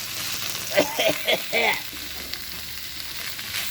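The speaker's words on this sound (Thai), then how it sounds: "ผัดให้มันหอมๆด้วยกันนะครับ" A homemade Thai curry paste stir-fried in a pan, with a steady broadband sizzle and scraping stirs under a short burst of nearby speech early on.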